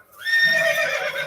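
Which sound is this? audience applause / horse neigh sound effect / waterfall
horse neigh sound effect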